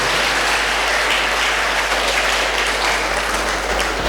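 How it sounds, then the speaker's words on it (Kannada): A crowd at a school institution's cultural programme applauds a performing team, a steady, loud wash of clapping with a constant low hum underneath throughout. "ಈ ತಂಡಕ್ಕೆ ಎಲ್ಲರೂ ಜೋರಾಗಿ ಒಂದು ಚಪ್ಪಾಳೆಯನ್ನು ಹಾಕಬೇಕು"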